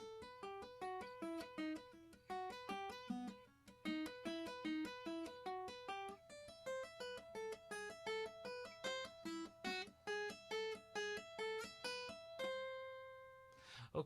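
Classical piece played by two-handed finger tapping on guitar, a steady stream of rapid, evenly spaced hammered notes in flowing arpeggios, close and clear, ending on a held ringing chord.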